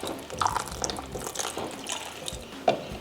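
A cornstarch and water slurry poured into a pot of softening strawberries for a strawberry pie filling, giving a brief liquid splash and trickle with a couple of soft drip-like accents, close and moderately quiet.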